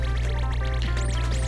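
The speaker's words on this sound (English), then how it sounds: "bubbles, bubbles. I like my bubbles" Bubbling water in the side-scrolling game Cave Story, a steady low burble with soft pops over a constant loud background hum, short and continuous with no talk.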